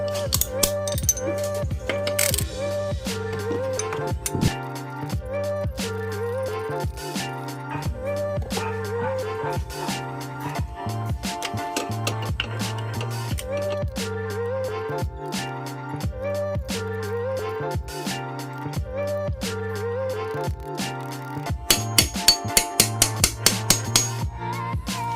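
A 14mm socket ratchet and combination wrench work on motorcycle fairing bolts, close and clear. Rapid ratcheting clicks come in bursts with a few metallic clinks of tools and a quick flurry of clicks near the end.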